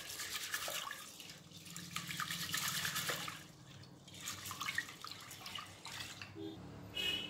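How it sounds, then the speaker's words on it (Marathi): Chana dal being washed in water, a faint splashing and swishing with trickling drips, quiet and close. "आता ही एका पाण्यामध्ये धुवून घ्यायची आहे किंवा 2 पाण्यामध्ये धुवून घ्या"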